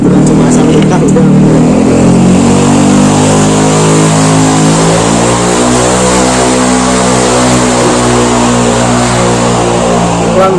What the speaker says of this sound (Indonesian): Motor suara motor.